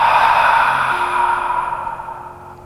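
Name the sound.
deep exhale through the mouth during yoga breathing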